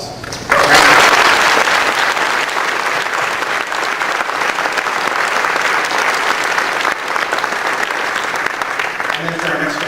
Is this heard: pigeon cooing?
no